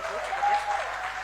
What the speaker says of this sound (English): may you please give her one round of applause again?